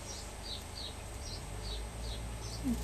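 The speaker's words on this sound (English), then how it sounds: "Little sparrows out there twittering." Sparrows twitter outdoors in a regular series of short faint chirps, about one every third of a second, set against low background hum, with no talk.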